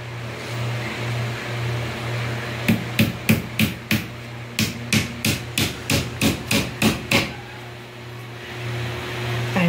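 A hammer drives nails into wood during a bedroom makeover, about a dozen sharp, evenly spaced close blows in two runs over a steady low hum.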